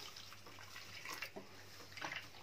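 Water is poured and splashes while lamb intestines are cleaned in a home kitchen, a soft, faint trickling with a couple of slightly louder splashes.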